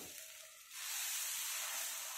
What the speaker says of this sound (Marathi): तवा मी गरम करून घेतलाय। आता यावर हे बॅटर टाकायचे।